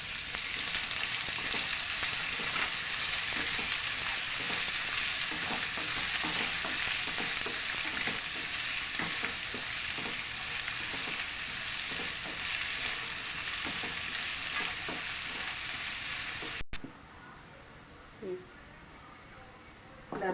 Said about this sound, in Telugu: పల్లీలు, తాలింపు గింజలు బాగా వేగిన తర్వాత ఉల్లిపాయ ముక్కలు వేసుకోవాలి.